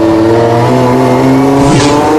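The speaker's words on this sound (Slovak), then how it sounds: "Nissan Patrol" A Nissan Patrol Dakar rally special with a 4.5-litre six-cylinder engine of about 300 hp drones loud and close. The steady engine hum stays strong and rises slightly near the end, with no talk.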